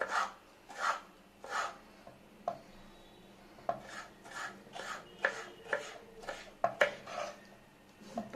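Vegetables being chopped with a knife for a black chana salad, a steady run of scraping strokes about once every second, close and fairly quiet, with a brief pause partway through.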